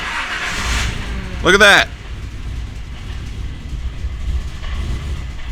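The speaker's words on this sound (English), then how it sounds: "Granted, it's idling like shit now, but it started right up. And it actually sounds healthy" A freshly tuned car's engine cranks and catches after cold-start adjustments, with a brief loud burst of starting noise followed by a steady low idle rumble; a voice exclaims over it.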